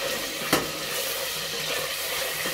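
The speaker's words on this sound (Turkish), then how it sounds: "Görüyorsunuz etlerim böyle biraz daha kavruldu." Lamb pieces sauté in a pan for Cretan-style artichoke stew, making a steady, close sizzle that runs throughout, with one brief utensil clink early on and no speech.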